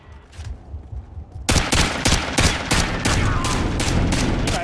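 Rapid gunfire in a Search and Destroy round of a multiplayer shooter video game: a quiet stretch with a few distant pops, then loud, close bursts of repeated shots rattling on without a break.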